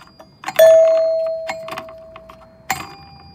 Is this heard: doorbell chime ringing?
yes